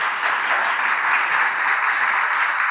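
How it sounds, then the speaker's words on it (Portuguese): An audience at a Brazilian retail-and-industry panel discussion applauds steadily, a dense, even wash of many hands clapping at once for the whole stretch. "eu queria pedir uma salva de palmas aqui para o Cláudio, Guilherme, para o João."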